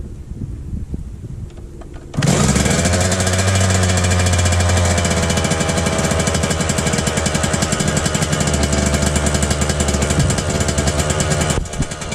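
A rebuilt Suzuki RM125 two-stroke dirt bike kicks to life after about two seconds of quiet, then holds a loud, steady, high idle with raspy revving throughout.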